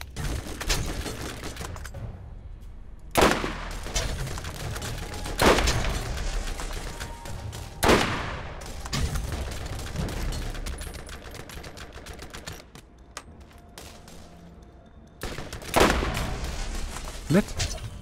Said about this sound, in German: Probieren wir gleich unser neues Sniper aus.